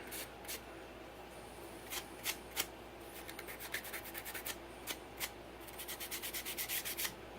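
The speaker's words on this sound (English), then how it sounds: "Sanding with the grain, my friends." Repeated short scratchy rubbing strokes of sandpaper on wood, sanding with the grain, quiet and close, coming in irregular bursts that speed into quick back-and-forth passes.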